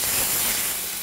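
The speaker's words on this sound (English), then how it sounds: "I'm going to use tongs and lift this over, and it should sizzle" Steady, loud sizzling hiss fills the short clip without a break as steak sears in a hot iron skillet.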